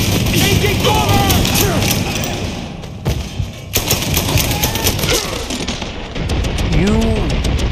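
Rapid gunfire and shotgun blasts in the Mafia 3 video game, dense bursts of shots and thuds close up, with a voice talking over the shooting.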